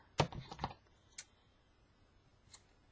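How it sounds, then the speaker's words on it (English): Scissors snip through yarn on a Boye tassel and pom-pom maker, giving two quick close crisp cuts followed by a couple of lighter clicks in a quiet room. "I'm going to cut the yarn off right there on the pom-pom."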